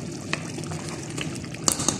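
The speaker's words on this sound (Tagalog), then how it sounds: "lagyan na rin natin ng tubig" Water splashes into a cooking pot for a meat and white bean dish in a soft, continuous pour, close and fairly quiet, with a couple of sharper clinks near the end and no voices.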